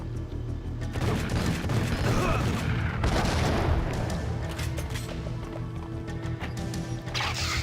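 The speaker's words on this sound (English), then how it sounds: "I'm back to my automatic shotgun now." An automatic shotgun firing in a video game: loud, dense volleys of booming blasts that run almost continuously, close and heavy, with brief lulls between bursts.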